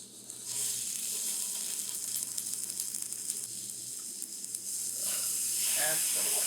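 Steady loud sizzling of Korean beef ribs (kalbi) frying in a hot pan with onions and sesame oil, a continuous close hiss that swells slightly toward the end, with no clear talking.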